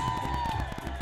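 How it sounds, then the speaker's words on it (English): Crowd cheering and clapping at a PLP political rally in Bermuda, a dense steady roar of applause with whoops held throughout at close range. "Let's give him a round of applause. Let's get loud from you there."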